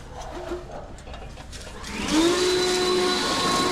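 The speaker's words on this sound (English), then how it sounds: "Blower." A handheld leaf blower clears debris from a copper gutter on a slate roof, its motor whining and then rising into a louder, steady rush of air that holds to the end.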